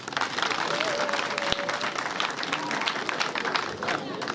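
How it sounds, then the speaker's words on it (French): Lively clapping and crowd noise rise from a community gathering during a prefect's tour in Cameroon, with sharp individual claps and some murmuring voices mixed in. "Applaudissez, non?"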